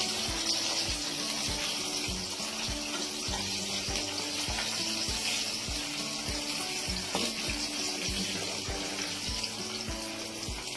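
Sweet corn frying in hot oil, a steady close-up bubbling sizzle with a faint regular pulsing beneath, and no voices.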